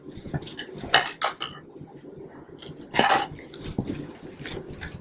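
A spoon stirs black-eyed pea salsa with diced green onion in a bowl, giving a few close, irregular clinks and scrapes of utensil against the dish amid soft wet mixing sounds.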